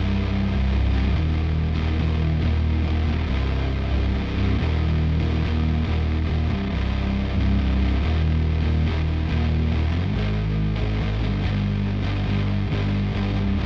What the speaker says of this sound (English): So this is our main chorus melody